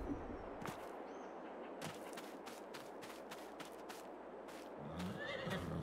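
Horses in a Farming Simulator 22 farm neigh and whinny in several repeated calls over a steady background bed, joined by faint clip-clop hoof sounds, with no talking.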